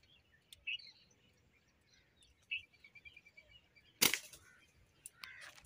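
Outdoors during slingshot hunting, one sharp crack rings out as the shot strikes a bird, set against scattered birdsong and insect chirps. No one speaks.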